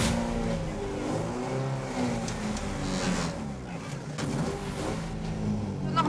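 A race car engine drones and revs from inside the cockpit, steady and close, rising and falling in pitch as it accelerates, with a passenger aboard.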